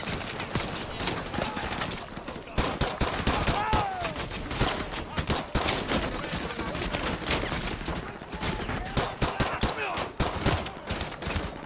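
Rapid pistol and weapon fire in a Call of Duty: Modern Warfare 2 Remastered campaign battle on a captured oil rig, dense overlapping shots throughout amid loud action, with a voice speaking at times.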